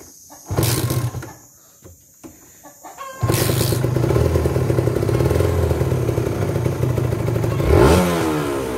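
A motorcycle engine blipped with a little throttle, with a fault sending combustion air where it should not go. A few short bursts come first, then the engine settles into a steady, close running note that swells briefly near the end.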